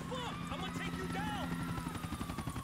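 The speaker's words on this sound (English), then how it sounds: "What the heck is the chopper doing?" Police helicopter in the video game GTA IV with the LCPDFR mod, a steady rotor drone running throughout under game sounds and excited talk.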